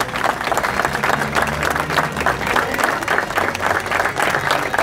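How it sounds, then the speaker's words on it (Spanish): An audience at a celebration of the fifteenth anniversary of the museum in Arroyito applauds steadily, the dense clapping sustained and fairly close for the whole stretch. "Un aplauso para recibirla."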